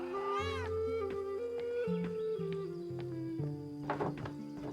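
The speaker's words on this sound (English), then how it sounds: "Always pet the kitty." A cat in the video game Pentiment meows when petted, several short rising and falling meows over soft game music, with a dull thunk near the end.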